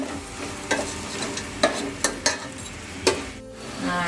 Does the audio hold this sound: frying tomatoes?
yes